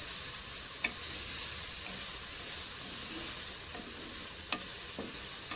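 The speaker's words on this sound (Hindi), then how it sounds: "देखिए अब 4-5 मिनट और मैं करूँगी ताकि अच्छी तरह ये चिकन हमारा फ्राई हो जाए, भुना जाए" Chicken fries steadily in a pan over medium heat for chicken jalfrezi, a soft continuous sizzle with a couple of brief clinks of stirring, fairly quiet throughout.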